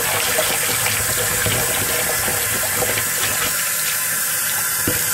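Hot water running from a bathroom tap into a basin, a loud, steady, close rush and splash that holds unbroken throughout, with no voices over it.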